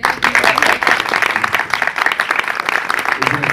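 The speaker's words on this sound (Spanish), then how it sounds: "Un aplauso muy fuerte, por favor, a nuestro director," A crowd applauds the director at a Spanish-language voice actors' event for the Boku No Hero Academia: Two Heroes dub, loud dense clapping that rolls on without pause.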